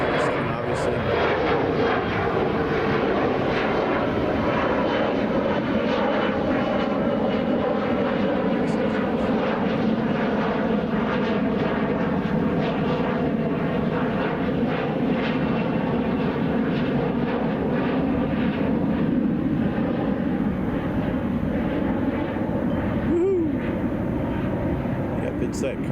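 A cargo plane taking off at Chicago O'Hare, its engines giving a steady, loud, broad roar that holds throughout with a faint rising whine, heard from a spotting position without foreground talk.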